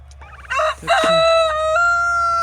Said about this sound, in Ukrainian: Півні співають, радіють.